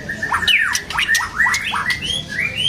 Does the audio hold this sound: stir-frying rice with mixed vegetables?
no